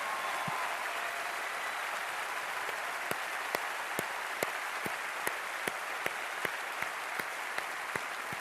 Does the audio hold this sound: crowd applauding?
yes